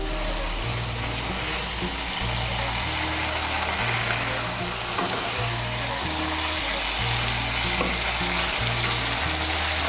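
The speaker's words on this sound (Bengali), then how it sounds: "গরম মশলার গুঁড়ো আর ধনেপাতা কুচিটাকে মিশিয়ে নেব হালকা হাতে" Cauliflower curry sizzles steadily in a pan as garam masala powder and chopped coriander are gently stirred in, giving a continuous close frying hiss with soft scraping of the spoon.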